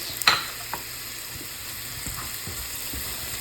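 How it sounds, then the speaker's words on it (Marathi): Manchurian balls frying in Agri red masala in a pan give a steady low sizzle, with a brief clink near the start and a few faint scrapes throughout. "असं मस्त फ्राय करून घ्यायचं"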